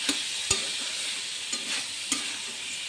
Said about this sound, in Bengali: এবার এটাকে ভালো করে কষিয়ে নিতে হবে।